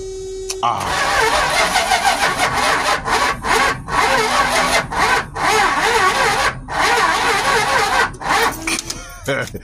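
A Mopar car with a dead battery cranks repeatedly, a labored starter whirring in long bursts broken by short pauses, loud and close, with people talking nearby.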